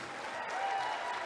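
Steady applause from a luncheon audience fills the room, a dense, even wash of clapping that holds at moderate loudness throughout with no voices rising above it.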